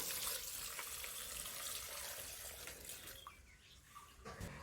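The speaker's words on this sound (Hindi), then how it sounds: "और पानी भी डाल दिया है" Water pours into a bucket holding clay left from whitewashing, a continuous splashing rush that thins out and ends in a few drips and small knocks toward the close.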